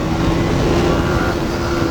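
A KTM Duke motorcycle runs flat out in a street race against a Yamaha MT15, with a steady, droning engine note and wind rush at constant volume and no speech.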